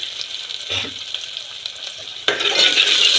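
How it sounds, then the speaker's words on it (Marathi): Garlic, onion and chili hit very hot oil in a home kitchen pan, giving a constant close sizzle that flares louder near the end as more goes in, with light stirring scrapes. "लसूण टाकले, आता कांदा टाकते, मिरची पण टाकून घेते."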